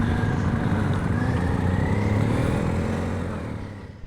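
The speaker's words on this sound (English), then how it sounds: "let's see if I can get out of this rut, turn around on the gravel without falling over" A motorcycle idles and rumbles steadily while turning around on gravel near Loch Doon, a close, continuous engine drone that fades slightly at the end.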